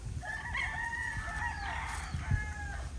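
A rooster crows once at a cockfighting derby, a drawn-out call heard at a moderate distance over low background noise.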